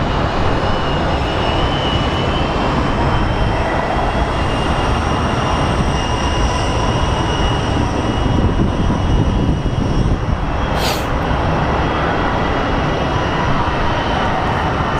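Airliner on final approach at Phoenix Sky Harbor, floating low over the runway on a cushion of air with a steady, loud, broadband engine roar throughout and a brief sharp hiss near the end, with no voices.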